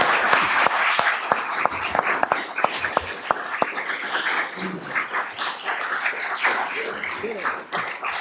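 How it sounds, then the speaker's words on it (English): Audience at a town candidates forum applauding, a brisk, steady round of clapping from a moderately sized crowd with sharp individual claps, continuing at even loudness before tapering slightly near the end. "will you join me giving a round of applause for our candidates?"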